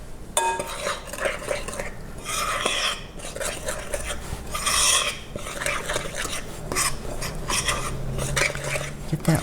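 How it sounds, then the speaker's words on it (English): Spoon scraping against a bowl while stirring a flour mixture for peach pecan quick bread, a loud grating, rasping scrape with clinks, continuous and close, with no talking. "That scraping sound is not very pleasant, is it?"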